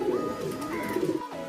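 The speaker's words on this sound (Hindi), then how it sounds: "अभी कबूतर को रख के दिखा रहा हूँ ये किस तरह खाते हैं" Pigeons coo softly and repeatedly nearby while feeding on finely ground roti, their low throaty calls overlapping in a steady murmur.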